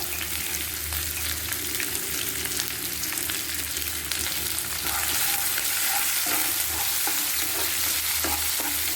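Onion and green chilli fry in hot oil for rava kichadi, a steady close sizzle with a low crackle throughout and spoon stirring scraping the pan, growing slightly louder partway through, with no voices.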